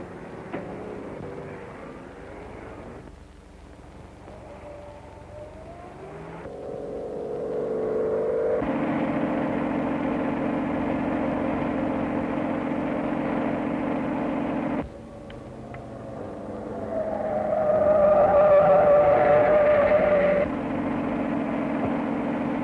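A 1930s car drives along at speed, a steady whirring engine drone that shifts in level and pitch, cutting between louder and quieter passages with a rising whine near the end, no speech.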